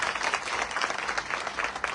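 A crowd at a public gathering in Surat applauds the team, with dense, loud clapping sustained for the whole short stretch.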